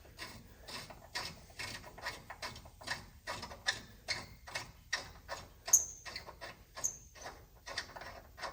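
A ratchet working on the suspension of a 1992 K2500 farm truck, quiet close clicking in quick repeated bursts with a steady, even rhythm throughout.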